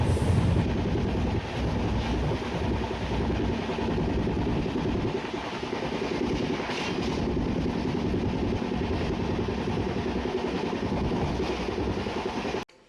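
A passenger train approaching Kolhapur, India, rolls along steadily with a continuous rumble and faint clatter of the wagons, loud and close, with no talking.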